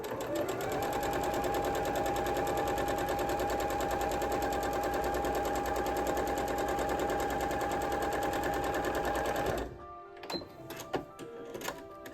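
A sewing machine stitches quilt block fabric pieces in one long, steady, rapid run lasting about ten seconds, then stops abruptly, leaving a few faint clicks and handling sounds.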